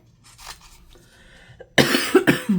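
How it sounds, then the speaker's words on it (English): A woman coughs loudly several times in quick succession after a stretch of quiet, soft room sound. "I'm sorry, excuse me for coughing."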